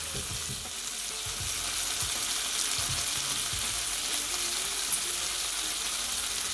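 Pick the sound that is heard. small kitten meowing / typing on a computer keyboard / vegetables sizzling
vegetables sizzling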